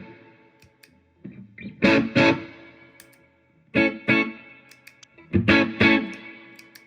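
An electric guitar played through a Lovepedal Twin pedal with clean boost and distortion engaged together, three bursts of driven, saturated chords separated by short quiet gaps, with no talking.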